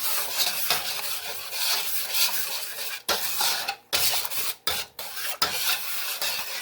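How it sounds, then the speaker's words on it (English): Sugar and water being stirred in a pan, a steady close scraping and rasping that runs nearly continuously, broken by a few brief pauses between strokes. "Put the water in here, sugar in, and I'll stir it around so it gets melted."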